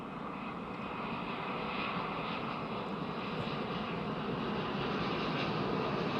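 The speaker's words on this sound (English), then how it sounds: "It's actually a very distinctive Dreamliner." A Boeing 787 Dreamliner arrives at Edinburgh Airport with a steady, rather faint jet roar heard from a distance, unbroken throughout with no voices.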